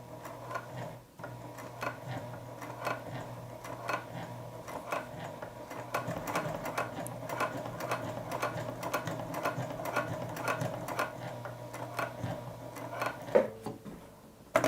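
A Juki TL 2010Q sewing machine stitches through eleven thick layers of denim, hammering out fast, even mechanical ticks with a low motor hum underneath, steady and close throughout.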